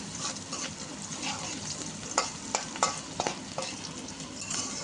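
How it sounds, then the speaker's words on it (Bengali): Sliced onions fry in hot oil in a pan, crackling and spattering vigorously, with irregular sharp pops over a continuous sizzle, close and fairly quiet with no talk. "খুব ছিটে উঠতেছে।"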